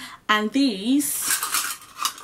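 A ring of metal measuring spoons rattles and jingles briefly with bright, clattering clinks, coming right after a short spoken phrase.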